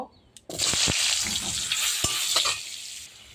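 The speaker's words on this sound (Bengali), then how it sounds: "কড়াইতে এবার আমি আলুটাকে ভেজে নেব" Potatoes drop into hot oil in a wok with a sudden loud burst of sizzling that holds steady for a couple of seconds, broken by a few sharp utensil knocks, then trails off; no talking.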